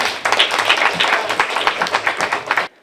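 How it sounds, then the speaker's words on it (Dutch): Applause for a homemade apple pie at a spring craft fair, a dense run of many hands clapping close by for almost three seconds before it stops abruptly. "Nou, applaus voor Marijn,"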